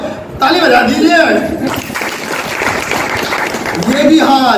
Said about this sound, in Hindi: ये तो ताली बजा दीजिए